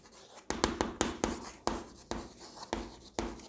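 Pen writing out an address by hand on paper, a series of close scratchy strokes in a steady irregular rhythm, each stroke a short rasping burst.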